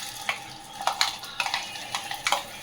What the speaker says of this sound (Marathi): चांगलं ढवळून घेते.